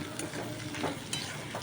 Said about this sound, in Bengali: এবার আমি বেগুন ভাজাগুলো দিয়ে দিলাম, দিয়ে নাড়াচাড়া করি